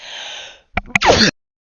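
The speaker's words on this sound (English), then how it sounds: "sorry, just had a sneeze" A single sharp sneeze with a quick intake of breath, close and sudden, following a short burst of hissy noise and then silence.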